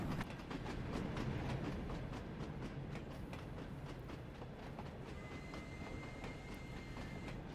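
An express freight train of unfitted stock on the Train Sim World 2 steam rail tour rumbles along steadily, with rhythmic wheel clatter and a continuous low roar and no talk.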